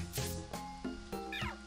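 Repeated cat meows from the Pokémon Mystery Dungeon: Explorers of Darkness video game, several short wavering cries in quick succession, close and clear with no talk over them.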